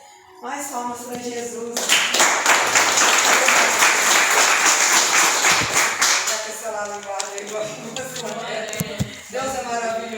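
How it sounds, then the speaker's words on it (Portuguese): A congregation at an evangelical church service breaks into loud, sustained clapping for a couple of seconds that fades after about four seconds, with a preacher talking before and after it. "Mais palmas para Jesus."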